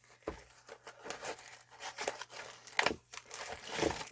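Cardboard packaging for a Lidl helping hands tool, cut open by hand in a shed, gives close, quiet irregular crinkling, tearing and scraping with a few sharper snaps, under a faint low hum.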